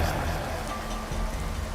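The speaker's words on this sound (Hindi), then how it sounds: "तेज बारिश हो रही है" Heavy rain pours down on a stormy night, a dense, steady hiss that fills the scene closely and evenly, with no pauses or talk.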